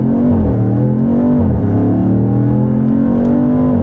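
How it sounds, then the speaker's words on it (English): Twin turbo Dodge Charger Scat Pack sedan launching under launch control at full throttle, a loud sustained engine roar rising in pitch, dipping briefly at a gear change and climbing again, heard from inside the car. "continue to hold brake, punch and hold full throttle."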